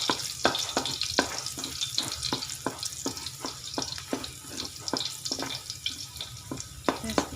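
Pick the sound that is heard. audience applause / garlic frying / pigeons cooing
garlic frying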